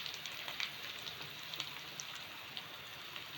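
Asafoetida sizzles in hot oil while cooking kichdi with vegetables, a steady, close hiss and crackle with small pops throughout.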